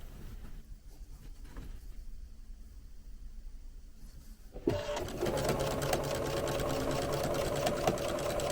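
A sewing machine back-stitches a few stitches while finishing raw edges on chenille letter appliqués, starting with a soft low hum and then running steadily and loudly from about five seconds with a dense mechanical whir.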